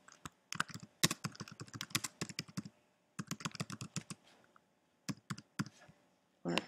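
Close computer keyboard typing as a title and short description are entered for an upload, heard as quick bursts of crisp keystrokes separated by short silent pauses.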